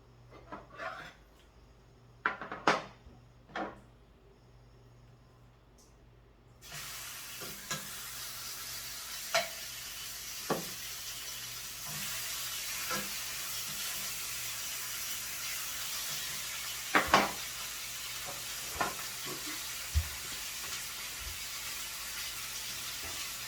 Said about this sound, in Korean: 삼겹살이랑 맛있게 구워 먹어보겠습니다